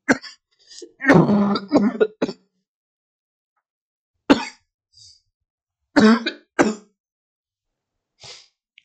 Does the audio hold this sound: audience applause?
no